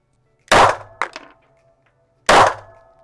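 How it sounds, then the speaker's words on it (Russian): A Sig Sauer P226T TK-Pro pistol fires at a target, two sharp, loud metallic cracks a couple of seconds apart, each with a short ringing decay, plus a lighter clatter after the first. "Стреляю во вторую мишень."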